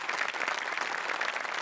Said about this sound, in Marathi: त्यांच्यासाठी एकदा टाळ्या वाजल्या पाहिजे.